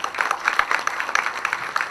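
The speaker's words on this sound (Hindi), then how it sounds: "तालियां।" Audience applause at a film trailer launch event, a steady dense patter of many hands clapping at close range, with voices faintly mixed in beneath it.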